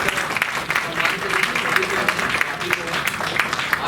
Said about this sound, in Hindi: आप लोग के जोरदार तालियां